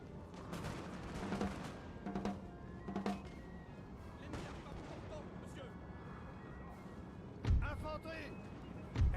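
Cannons fire canister shot in the Total War: Napoleon strategy game. Scattered thuds and crashes of battle sound through the clip, with two heavy booms near the end, and a voice speaks over parts of it.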